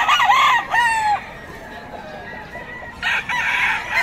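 Rooster crowing loudly and close, a drawn-out cock-a-doodle-doo followed by a second crow, among a group of fighting roosters for sale.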